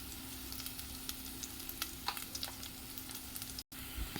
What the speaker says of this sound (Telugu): ఇప్పుడు అన్నీ బాగా ఫ్రై అయ్యాయి కదా.